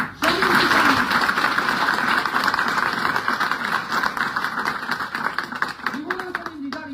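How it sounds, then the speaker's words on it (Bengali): Applause from an audience at a Modicare direct-selling business event, a dense continuous clapping that fills the whole stretch, with a voice briefly rising over it near the start and end. "জোরে হাততালি"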